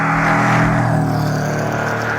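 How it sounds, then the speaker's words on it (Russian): A car roars past close by on a road with a loud, steady engine drone and tyre rumble that fades slightly as it moves away. "Машины обнаглели просто. Носятся и носятся."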